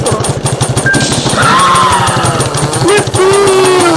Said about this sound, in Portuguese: Estou ouvindo um motor.